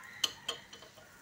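Mung dal appe being flipped in an appe pan, producing a few light metallic clinks and taps, close and quiet, evenly spaced.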